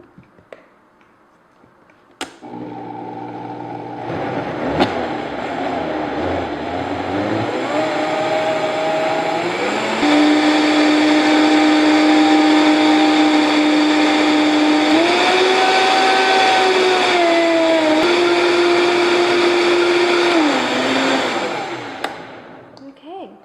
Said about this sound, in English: we're going to blend that up first